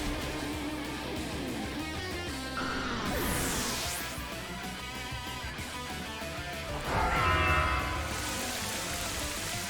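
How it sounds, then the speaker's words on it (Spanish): Rain weather falls during a Pokémon video game battle, a dense, steady hiss of pouring rain with brief whooshing effects and swells, loud and continuous with no talk over it. "Empieza a llover."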